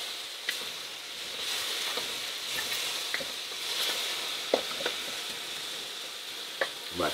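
Strips of chicken sizzle and brown in a frying pan, a steady close hiss with occasional sharp pops and utensil scrapes as the meat is stirred.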